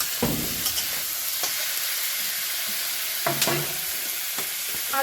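Fish pieces and potato frying in oil in a pan, a steady sizzle running throughout with a few soft clinks and stirring knocks, close and fairly loud, with no talking.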